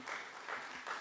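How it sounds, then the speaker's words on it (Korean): A short burst of congregational applause during a Sunday church service, soft and somewhat distant, with a steady clapping texture that swells slightly in pulses. "우리 박수 한번 주시죠."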